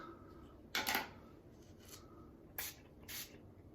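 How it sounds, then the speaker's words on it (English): A few short hissing spritzes from a spray bottle, one quick double puff and then two more, close by in an otherwise quiet room. "spraying some alcohol back here"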